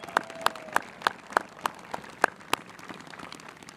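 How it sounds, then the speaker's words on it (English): Sparse handclapping from an audience at the 2019 Maryland governor's inauguration in Annapolis: about nine sharp, evenly spaced claps, fairly quiet, thinning out and fading toward the end with no voices. "Let's give him another round of applause,"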